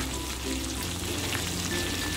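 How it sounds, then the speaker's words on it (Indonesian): Four pieces of pre-cooked chicken fry in hot oil in a wok over low flame, a steady close sizzle and crackle running without pause. "Saya panaskan wajan, saya kasih minyak secukupnya. Akan saya goreng ayamnya."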